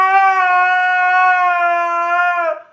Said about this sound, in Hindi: ये कुत्ता का हु काहे लगा दिया